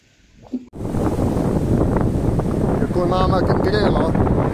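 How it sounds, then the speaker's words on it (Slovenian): Strong headwind buffets a sailboat on an around-the-world voyage, a loud steady roar of wind noise over the microphone with water and rigging sounds, while a voice speaks briefly near the start. "Čeprav ful piha kontra."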